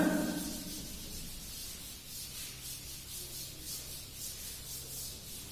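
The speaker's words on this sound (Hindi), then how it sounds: "मैं फिर रब कर रहा हूं" A steady, soft rubbing sweep as a board is erased during a classroom lecture, a continuous scratchy swish with a rhythmic back-and-forth pulse, close and fairly faint.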